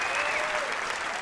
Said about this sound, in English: Let's give Genevieve a round of applause.